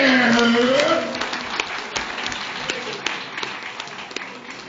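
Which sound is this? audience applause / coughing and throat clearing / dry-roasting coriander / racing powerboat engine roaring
audience applause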